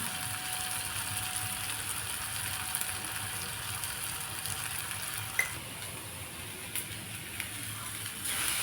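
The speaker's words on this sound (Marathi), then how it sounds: "हा लसूण टॅमॅटो चांगला भाजला" Garlic and tomato roasting in a pan for a Maharashtrian eggplant bharit, giving a steady, soft sizzle and crackle that runs unbroken throughout, with a few faint clicks and no talking.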